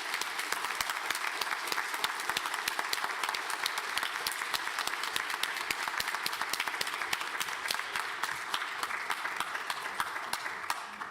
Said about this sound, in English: let's give 801 a nice round of applause